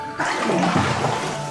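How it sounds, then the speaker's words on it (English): A bucket on a rope drops down a well in a medieval castle courtyard, bursting into a sudden rushing splash of water that churns on briefly before easing off. "Now Ruth and Peter can fit the pulley and rope to the well in the castle's courtyard."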